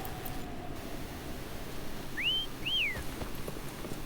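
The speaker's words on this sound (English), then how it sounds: "Why don't you call Foam over? Try whistling." A two-note whistle calls Foam in a video game, two clear rising-and-falling tones a moment apart over a steady low background hum.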